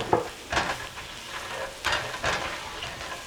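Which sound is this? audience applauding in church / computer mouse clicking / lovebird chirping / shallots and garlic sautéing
shallots and garlic sautéing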